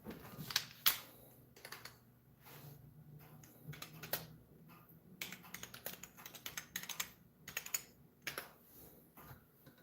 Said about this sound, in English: I need my keyboard with me over here.